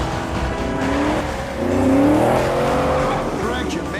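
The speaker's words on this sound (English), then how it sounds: "As he starts the engine, the detectives spot him, and the ultimate high-speed chase begins." Mustang GT500 'Eleanor' engine roaring during a high-speed movie car chase, loud and continuous with swelling revs and squealing tires.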